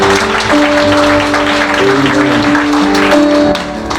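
Wedding guests clap for the couple's parents in a steady, dense burst of applause lasting several seconds, with sustained musical tones running underneath.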